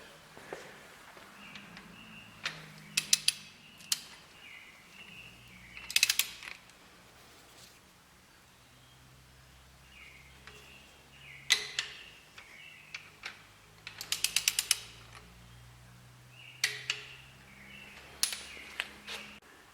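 Sharp clicks from a torque wrench tightening bolts during piston ring and engine assembly, set to 15 and then 52 foot-pounds. They come in short clustered bursts with gaps between, close and fairly quiet, with no talk.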